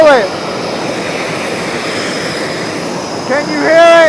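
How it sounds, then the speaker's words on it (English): Canadian Snowbirds jets roaring overhead at a fleet week air show, a broad loud rush with rising and falling whine as planes pass, heard outdoors with people talking nearby. "Here comes some planes, they're coming back. Yes, the snowbirds, 1 through 9."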